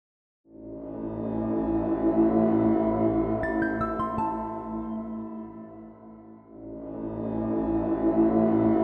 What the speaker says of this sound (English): I'm going to play a little composition I put together just using the sounds from the libraries